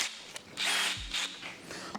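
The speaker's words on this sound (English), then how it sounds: "I'm just going to drill a hole somewhere around here." A power drill bores a hole under a car's hood in several short bursts, whirring and grinding close up and fairly loud, with brief pauses between the bursts.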